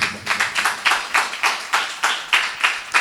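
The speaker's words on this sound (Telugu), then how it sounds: "చప్పట్లు కొట్టి ప్రభుని స్తుతిద్దాం." A worship congregation claps in praise, producing a steady run of loud, evenly spaced group claps, roughly three or four per second, continuing without talk.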